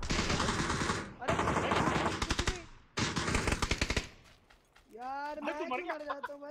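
Rapid bursts of automatic gunfire in the mobile battle-royale game PUBG Mobile, loud rattling volleys broken by short pauses, followed by an excited voice talking over the game.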